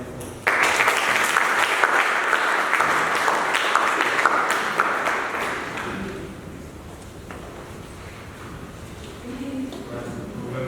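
An audience applauds after a speech at a national French eloquence competition: loud, dense clapping bursts in and holds for several seconds, then thins and fades into a quieter room murmur.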